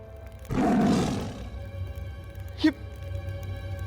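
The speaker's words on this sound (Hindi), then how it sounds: "ये तो बाघ है।" A tiger gives a loud, raspy roar lasting about a second, followed by a shorter, sharper growl a moment later, against a quiet background hum.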